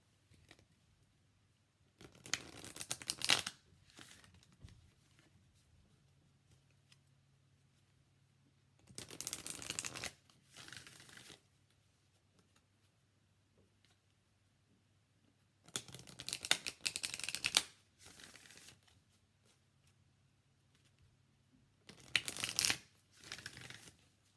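Sandra Ann Taylor's Energy Oracle cards being shuffled by hand in four separate quiet bursts of riffling and flicking, with soft low hum and near-silence between them.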